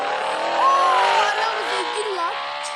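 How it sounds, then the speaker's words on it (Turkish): A Mercedes car in the Roblox video game drives away, a steady engine drone with rising and falling whines and a squeal-like tone, continuous and fairly close throughout. "Gitti araba. Oha Mercedes."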